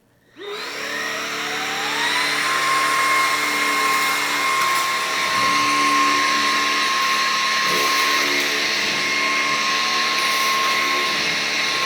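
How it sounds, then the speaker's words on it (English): A Levoit LVAC-300 cordless vacuum cleaner sucks up debris. Its motor spins up with a rising whine, then runs as a loud, steady, close whir with a high tone and rattling intake noise, with no talking. "Let's see if I can suck that right up with the 300."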